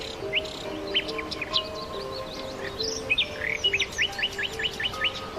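Songbird singing at night, evoked as an immortal bird in Romantic poetry: a run of clear, high whistled chirps and short rising notes, some repeated in quick series, over a soft steady background hum with no voices.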